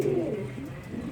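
Pigeons cooing nearby, a low throaty rolling coo that swells and continues steadily through the moment, clear and unaccompanied by talk.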